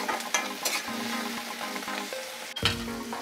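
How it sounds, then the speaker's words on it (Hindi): Fenugreek (methi) greens sautéing in a hot pan, a constant close sizzle with a few stirring clinks and scrapes, and a sharper spatula knock near the end. "इसको करीब मैंने एक मिनट तक के लिए भून लिया है।"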